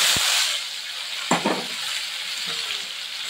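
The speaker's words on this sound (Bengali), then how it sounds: "এবার অবশ্যই রসুন আর পেঁয়াজ দিয়ে দেব।" Garlic and onion fry in ghee with cardamom, cloves and cinnamon, a steady bright sizzle broken by a few stirring clinks, close and without talk.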